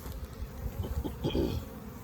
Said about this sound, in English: the bees are coming in with full pollen baskets